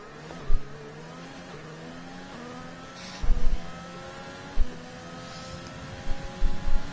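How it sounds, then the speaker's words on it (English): Formula One race cars in F1 2020 roar past one after another, with rising and falling engine whines and sharp revving pulses that carry over a steady mechanical drone; no one speaks. "I'm just sitting here watching all the other cars race on"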